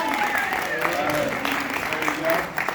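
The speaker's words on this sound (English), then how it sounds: "Give them a big round of applause, everyone." Audience applause for game participants on a podcast stage at a Star Wars fan convention, a steady wash of clapping with voices talking over it throughout.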